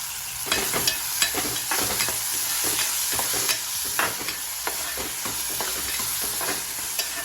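Tomatoes sizzle and fry in a pan of oil for a fish curry, a steady broadband crackle with repeated scraping stir strokes, close and continuous with no voices.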